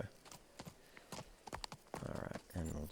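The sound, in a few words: horse hooves trotting in the video game Kingdom Come: Deliverance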